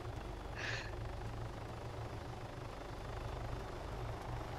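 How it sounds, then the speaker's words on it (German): Helicopter flying overhead in the video game King of the Hill, a low steady rotor drone with a faint rhythmic chop running throughout, fairly quiet, with one short higher-pitched chirp near the start. "Oh, hier sind zwei Helis über uns."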